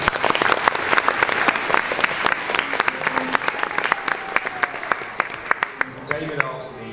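Crowd applause and cheering for the organisers of a Christmas-time community event, with dense, sustained clapping lasting throughout and a few voices mixed in.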